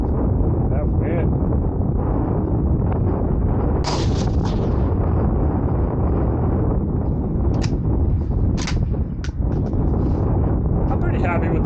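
Steady wind roars and buffets a microphone at an outdoor rifle range, a constant loud rush with a few brief sharper bursts.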